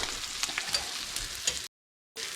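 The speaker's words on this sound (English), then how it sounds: "So my milk is starting to come to a boil." Milk coming to a boil in a pan for sausage gravy, a faint bubbling sizzle with small pops, cut off by a brief dropout near the end.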